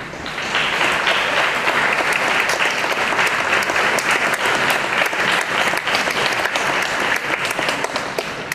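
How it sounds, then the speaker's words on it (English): Students at a school dedication and ribbon-cutting ceremony giving a sustained round of applause, a dense, even roar of many hands clapping at once, steady and fairly loud throughout. "I would invite each student here, right now, by your applause, to thank the taxpayers of this school district."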